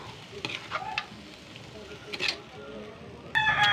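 Water spinach (kangkong) is sautéed in a pan, with a steady frying sizzle, scraping and stirring strokes and clanks of a utensil against the pan, and a voice speaking faintly over it.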